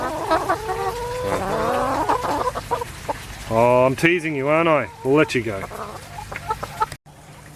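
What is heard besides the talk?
backyard chickens clucking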